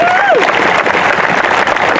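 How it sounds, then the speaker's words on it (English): A crowd at a Nation of Patriots departure event applauds steadily and fairly loudly through the whole moment, with a brief whistle near the start. "If you heard of them, give them a round of applause"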